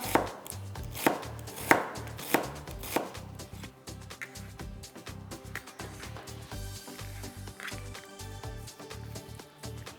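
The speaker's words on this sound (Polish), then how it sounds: "Pokroję cebulę. Cebulkę w piórka." A knife chops an onion into thin strips on a cutting board, with a steady run of close, crisp cuts. The first few strokes are louder and more spaced. Soft background music plays underneath.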